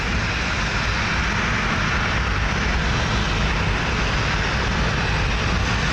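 Jet airliner departing runway 10 left at CMH airport, a loud steady broadband engine roar that holds continuously without letup.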